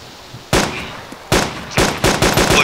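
Gunfire in the DayZ video game: a sharp sniper rifle shot, then a second loud crack and a rapid run of four more shots, close and punchy against a quiet background.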